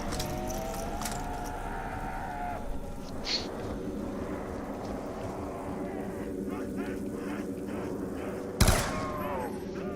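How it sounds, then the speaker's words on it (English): Gunfire in a zombies video game comes as scattered shots under a steady background bed, capped by one loud sharp blast near the end. Some game sounds come in bursts, and nobody speaks over the shooting. "Gunshots are definitely loud."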